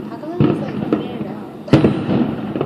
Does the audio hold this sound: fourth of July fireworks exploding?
yes